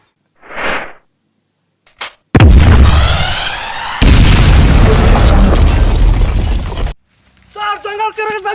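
Staged battle sounds of a terrorist attack in a jungle, with loud, close booming blasts and sustained explosive roars separated by short gaps. A shouted voice is heard briefly near the end.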